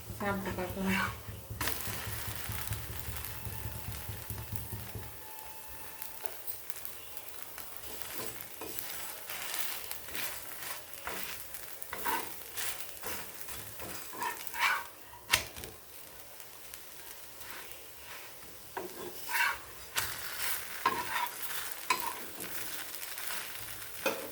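Pearl millet dosa cooking on a hot pan, a faint continuous sizzle with scattered clicks and scraping from a utensil, under intermittent talking.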